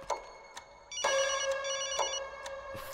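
A telephone rings in repeated bursts with a bright, harmonic electronic tone, close and fairly loud, with short pauses between rings.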